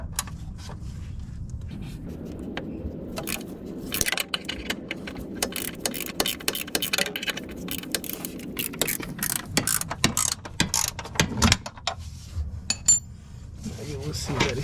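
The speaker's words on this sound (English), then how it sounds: "for this one, you will need this kind of tool, a ratchet" A hand ratchet loosens camber arm bolts on a Lexus IS, producing bursts of sharp metallic clicking and clattering, close and uneven in rhythm, with quieter pauses between strokes.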